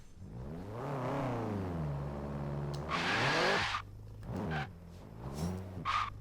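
Front-wheel-drive Honda Civic in Forza Horizon 3 with its wheels spinning at launch: the engine revs up and wavers, broken by loud hissing bursts and brief squeals, then pulses of throttle rise and fall.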